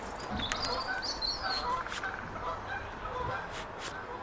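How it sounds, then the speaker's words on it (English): Geese honk repeatedly in a noisy chorus, several birds calling over one another at a moderate distance against steady outdoor background noise. "Sounds like the geese are having a good time"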